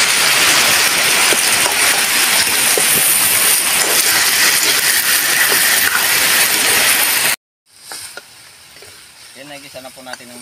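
Pork hock seasoned with salt and crushed pepper sizzles loudly and steadily in a hot pan for several seconds, then cuts off abruptly, followed by quieter clinks and faint kitchen sounds.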